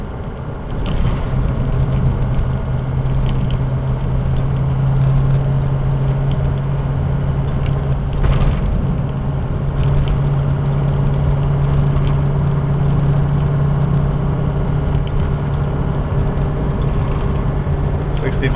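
A 2005 Ford E350 diesel box truck drives along with a constant low engine rumble and road noise inside the cab, steady and loud for the whole stretch, with a faint voice now and then under the drone.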